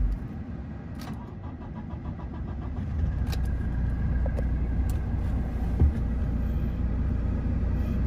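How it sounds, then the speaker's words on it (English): A 2018 Toyota Hilux SR engine cranks and starts, then settles into a steady, fairly quiet idle rumble that carries on for several seconds with a few small clicks, no talking. "Give the car a quick start."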